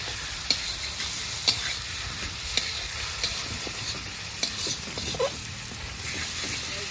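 Meat stir-frying for chowmein in a hot pan, a continuous bright sizzle with repeated sharp scraping and tossing clicks of the spatula, close and loud with no talking.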